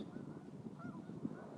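Geese honking at the Liberty State Park bird sanctuary near the shore, several faint calls spread through a quiet outdoor background.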